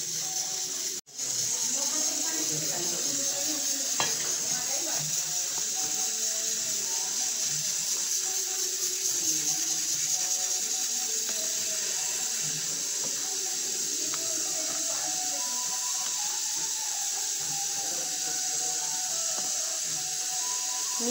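A vegetarian dish sizzles with a steady, even hiss in a pan as water is added to thin it out, while a person talks over the cooking throughout.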